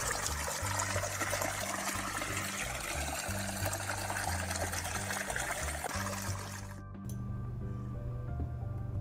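Water trickling and splashing steadily from a small seep at LaSalle Creek, a continuous close wash that shifts to a quieter tone near the end, with no talk.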